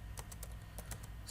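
Keys clack on a computer keyboard as code is typed, a quick irregular burst of close, crisp taps with short pauses, over a low steady hum.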